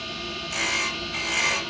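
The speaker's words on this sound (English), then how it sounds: "And we take a finishing scraper." A carbide finishing scraper shaves a wood pen blank spinning on a lathe, with a steady hum underneath and two bright rasping scrapes, each lasting about half a second, close and fairly loud.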